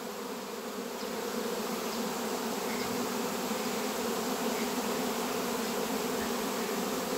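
A dense swarm of honeybees buzzes constantly around a hive, a thick, even drone that holds loud and unbroken throughout, with no voices.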